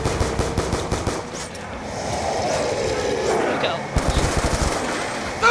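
Rapid automatic gunfire in Black Ops 2 Zombies, loud and close, with bursts of evenly spaced shots at the start and again near the end. People talk over the shooting.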